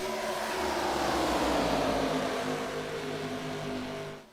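A pack of ARCA race cars roars along the back straightaway at Kansas Speedway in a sim race. The engines form a loud, sustained harmonic drone that fades at the end, with no talk.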